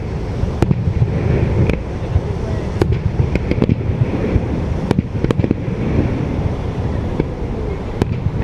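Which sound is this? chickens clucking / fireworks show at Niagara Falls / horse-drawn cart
fireworks show at Niagara Falls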